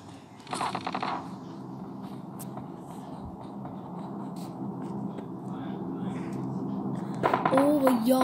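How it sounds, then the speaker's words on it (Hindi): Gunfire from a battle royale video game crackles in bursts and rapid volleys beneath background game noise and a player's voice. "और इतनी सारी गोलियां चल रही हैं कहाँ कहाँ?"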